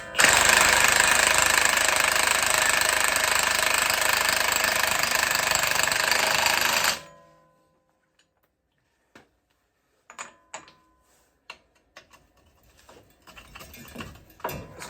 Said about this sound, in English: I'm just going to snug it up with the gun.